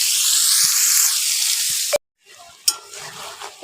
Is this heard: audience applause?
no